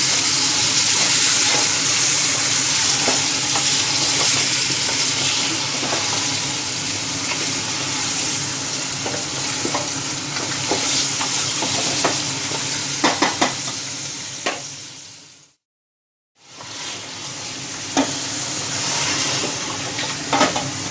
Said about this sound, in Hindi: एक से 2 मिनट के लिए हम इसको अच्छे तरीके से जो भून लेंगे